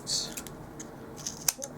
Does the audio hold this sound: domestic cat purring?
no